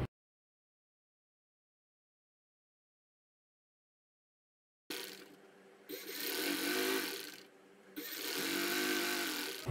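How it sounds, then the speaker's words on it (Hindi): A sewing machine runs in two steady bursts as it stitches a pocket onto a designer panel kurti. The sound is fairly close and mechanical, with a short pause between the runs and no talking. "यहां से मैं इसको ऊपर से भी सिलाई लगा रही हूं।"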